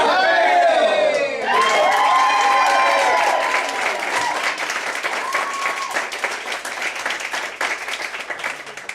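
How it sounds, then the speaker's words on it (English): An improv theater audience at Austin's Hideout Theater erupts in loud, sustained applause and cheering after a few performers shout together, the clapping crowd filling the room and slowly tapering off. "And then we applaud you wildly."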